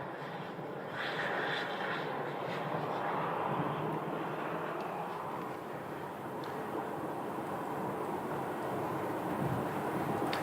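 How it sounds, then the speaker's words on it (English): A Delta Airbus A321 arriving from Minneapolis lands at Phoenix Sky Harbor, giving a steady, broad jet roar that holds at an even loudness for about ten seconds, with no voices over it. "Delta 943 landing from Minneapolis. It's an Airbus A321."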